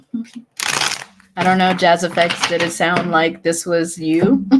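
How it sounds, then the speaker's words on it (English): One quick riffle of tarot cards being shuffled, followed by someone talking at length close to the microphone. "I'm just going to shuffle these cards"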